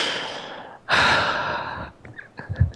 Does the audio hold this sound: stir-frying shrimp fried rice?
no